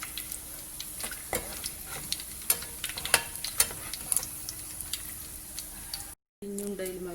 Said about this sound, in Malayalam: ഉള്ളി പൊരിഞ്ഞു വന്നു, അത് നമുക്ക് കോരി മാറ്റി വെക്കാം.